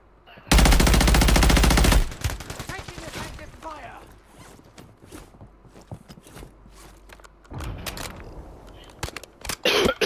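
Automatic gunfire in a shooter video game, a loud sustained burst of rapid shots followed by quieter footsteps, mechanical clicks and scattered noises, with more firing near the end and a voice talking at times.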